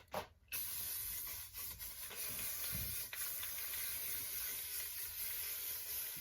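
Aerosol spray coating a 3D printed Star Wars helmet: a steady, close hiss runs almost unbroken for several seconds after a brief start, with small dips where the nozzle pauses.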